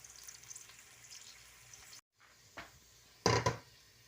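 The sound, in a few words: meat frying on a stove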